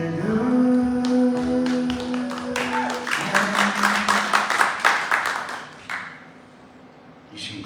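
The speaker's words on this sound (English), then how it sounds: "You shouldn't clap yet." Audience clapping along in a steady rhythm during a live acoustic performance of a song, a run of close, sharp claps over guitar that fades out, with voices present.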